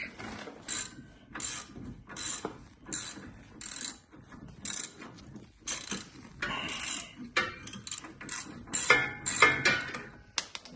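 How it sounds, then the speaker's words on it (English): A socket wrench ratchets on a stuck front axle nut of a 2003–2008 Honda Pilot during a passenger-side CV axle replacement, giving repeated bursts of close, loud metallic clicking in uneven strokes with short pauses between them. "I'm gonna get another socket wrench."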